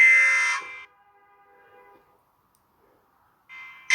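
An electronic alarm in a cartoon missile scene blares a harsh buzzing tone, cuts off and rings faintly down to silence, then starts blaring again near the end.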